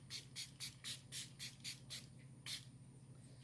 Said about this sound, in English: I am going to spritz myself right now